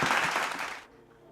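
Audience applause at a seminar hall, a dense burst of clapping that fades out after about a second, leaving quiet room tone.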